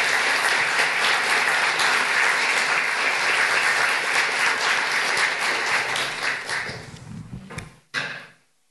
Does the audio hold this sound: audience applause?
yes